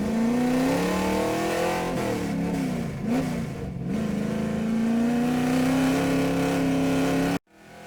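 A street stock race car in a racing video game holds a loud, steady engine drone through a qualifying lap at a small speedway, its pitch dipping briefly mid-lap before cutting off abruptly at the end.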